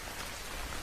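Heavy rain pours steadily in a short, dense, unbroken wash of drops, part of a horror audio drama scene set at midnight.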